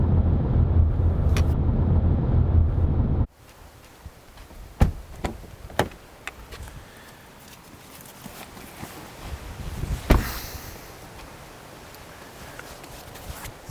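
A rented car on the German Autobahn: a steady loud engine and road roar for a few seconds, then quieter cabin sound with scattered clicks, knocks and a faint wind rush.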